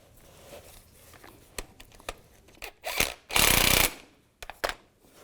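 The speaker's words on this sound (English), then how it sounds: "Just use a 12mm socket. Take this bracket off with the bolt. Slide it in position and snug it down." A ratchet with a 12mm socket snugs down a bracket bolt on a 2005-15 Nissan Xterra power steering pump, giving several close, sharp clicking bursts and one longer run of rapid ratcheting in a quiet shop.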